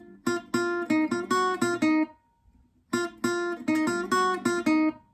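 Complete section 2 of a song's riff on guitar, plucked cleanly in two repeated phrases of rapid ringing notes with a short pause between, no voices present.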